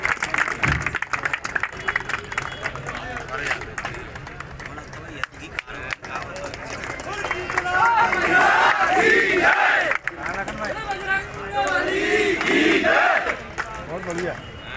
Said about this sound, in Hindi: मुद्गल वाले भैया पहलवान के लिए जोरदार तालियां हैं